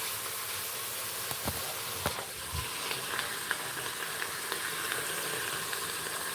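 Beef and onions frying in a hot pan give off a steady, close sizzle and hiss, with a few faint clicks and knocks of utensils and no talk over it.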